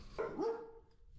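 A single dog barks once in a Serbian village, a short, fairly loud yelp with a falling tail, set against faint outdoor background noise.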